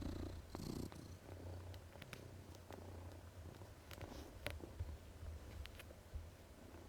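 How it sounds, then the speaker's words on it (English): A cat purrs while sitting on a desk, a soft, steady rumbling close by with a few faint clicks and taps over it, and no talking. "I'm not sure if I'm actually being drowned out by a purring cat because she sat on my desk"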